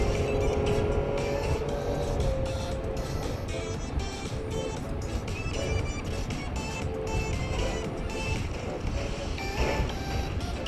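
In the video game Neverness To Everness, a car drives through a tunnel with a steady engine hum and road rumble, with music playing over it.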